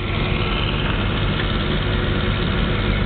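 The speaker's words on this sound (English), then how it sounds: "Start the machine. Let it idle for a second." A Cat 320 excavator engine idles just after starting, a loud, steady, low diesel rumble that stays even throughout, close up with no voices.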